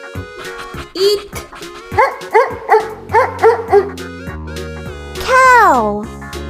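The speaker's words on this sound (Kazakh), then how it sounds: "Ит." A cartoon dog gives a quick run of short, yappy barks and yips, fairly loud and close, ending in a rising whine-like cry.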